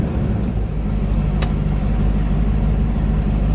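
Engine of a barn-find 1970 Plymouth Superbird, revived after sitting since 1975, rumbles loud and close as the car rolls off, a steady low growl throughout.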